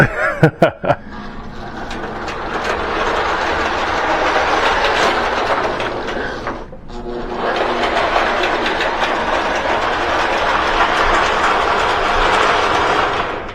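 A model train rolls out of the yard onto the eastbound main line of a home layout, a steady close rumble with clickety-clack wheel noise and a brief dip partway through.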